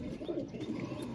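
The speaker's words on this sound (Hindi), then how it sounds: "ना कबूतर बहुत टक्कर के कबूतर है।" Pigeons coo close by in soft, throaty bursts, with a few faint chirps over a low background and no talking.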